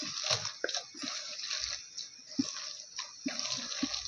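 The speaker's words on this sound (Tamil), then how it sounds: "இதை நல்லா மிக்ஸ் பண்ணி எடுத்துக்கலாம்" Chana dal vada batter with onion being mixed by hand in a bowl, giving soft wet squelches and slaps in an uneven rhythm, close and fairly quiet.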